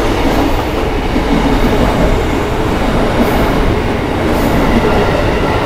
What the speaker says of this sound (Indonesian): ada KRL lewat.